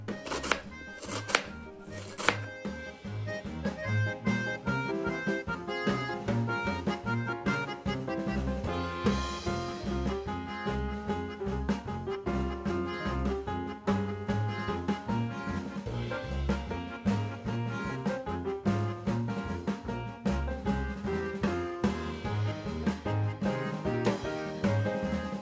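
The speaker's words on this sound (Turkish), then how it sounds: "Kuru soğanımı küp küp doğruyorum." Dry onions are diced into cubes with a knife, a long run of quick, even chopping taps on a board, close and fairly loud throughout with no talking.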